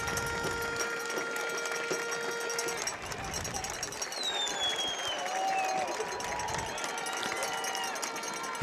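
Stadium crowd of over 2,000 people on their feet at a soccer match, cheering and applauding in a steady, continuous roar with whistle-like tones rising above it, sustained throughout at moderate distance.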